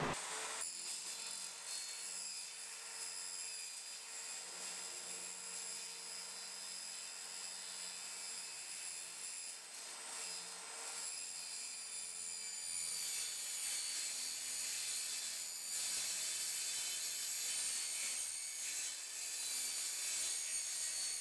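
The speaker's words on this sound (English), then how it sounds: "circular saw with a cheap metal blade in it to cut this" A circular saw fitted with a cheap metal blade whines steadily while cutting a long strip for a turbo lawn mower kit. The tone is continuous and fairly quiet, grinding on for about twenty seconds with no speech.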